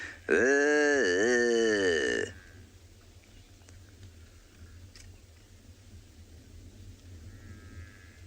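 A loud, deep, drawn-out buffalo bellow lasts about two seconds, followed by quieter outdoor South African safari ambience with faint distant calls.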